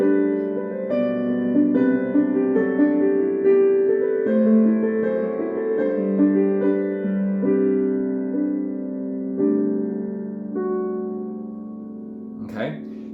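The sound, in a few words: piano playing Lord Have Mercy in G at tempo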